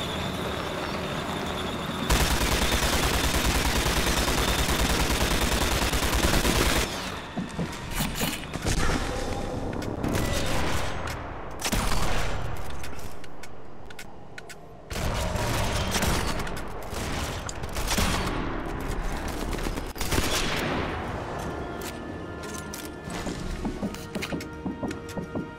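Gunfire in the video game Sniper Elite 4, with loud sustained bursts and blasts, mechanical game noise, and quieter gaps between volleys.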